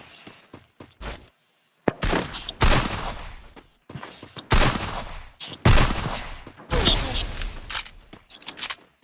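Bursts of gunfire from the mobile shooter game Free Fire crack out in rapid clusters separated by brief silences, loud and sharp, with several separate volleys over the stretch.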